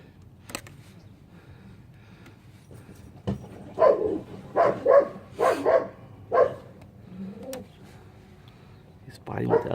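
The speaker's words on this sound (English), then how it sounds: "He's fighting with the other dogs next door. They're barking each other off." Several sharp barks from dogs next door in a quick irregular burst, moderately close, with quieter background noise before and after.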